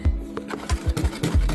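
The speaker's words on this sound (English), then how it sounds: "So I'm going to whisk this together real quick." Dry cake ingredients including sea salt whisked together in a bowl: a quick series of rhythmic scraping, tapping strokes, about eight close, even beats in under two seconds.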